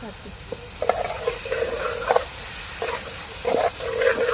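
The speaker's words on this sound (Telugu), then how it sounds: "ఈ టమాటాలు, పసుపు ఇవన్నీ వేసుకుందామండి. వీటినైతే బాగా మిక్స్ చేసుకోవాలి." Tomatoes and turmeric sizzle and fry in a hot pan while a spoon stirs them in several distinct scraping bursts, close and moderately loud, with a steady hiss underneath and no talking.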